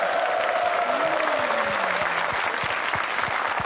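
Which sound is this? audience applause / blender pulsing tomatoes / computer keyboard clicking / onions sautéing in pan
audience applause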